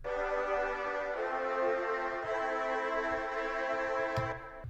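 A pitched sample in FL Studio run through Gross Beat, Fruity Reverb and EQ with highs and lows trimmed, a sustained harmonic tone swelling in a few broad pulses with a soft reverberant tail, moderately loud with no talk.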